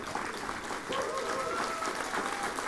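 Applause from an audience at a folk music education project's final concert, steady clapping that fills the whole stretch without a break, with a few voices mixed in.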